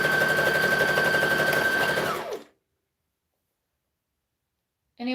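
A sewing machine runs a fast, continuous zigzag stitch along a fabric edge, steady and loud for about two seconds, then slows and stops, followed by silence and a brief burst of sound at the end.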